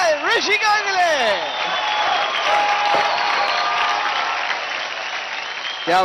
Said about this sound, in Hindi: जोरदार तालियां हो जाए ऋषिका के लिए।